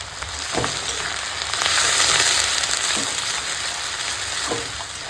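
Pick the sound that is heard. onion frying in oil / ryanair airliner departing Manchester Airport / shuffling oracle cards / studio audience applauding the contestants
onion frying in oil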